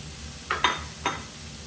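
Courgettes and millet are tipped into a hot, sizzling pan, making three short, bright hissing bursts in quick succession over a faint, steady background with no talking.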